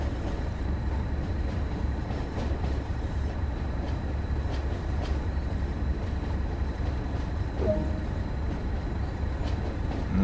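Freight train running in Train Sim World 2 on the Tees Valley Line, rolling toward a depot while crossing track switches; a steady low rumble with faint, irregular clicks from the rails runs throughout.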